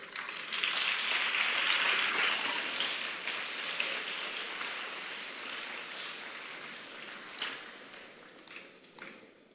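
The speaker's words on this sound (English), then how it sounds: "let's give him a big round of applause" A big round of applause rises from a teen audience at a self-belief conference address, swelling quickly, then slowly fading into scattered, softer clapping toward the end.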